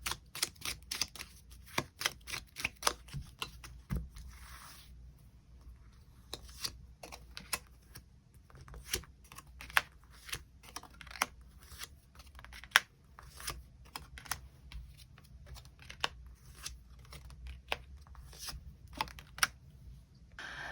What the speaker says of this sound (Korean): 추가 카드로 일별로 월요일부터 일요일까지 어떤 하루를 보내게 될지 추가 카드 뽑아보도록 하겠습니다